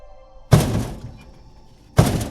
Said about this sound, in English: A deep, metallic thud echoed from the container behind her.